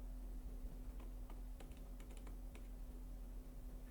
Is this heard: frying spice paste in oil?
no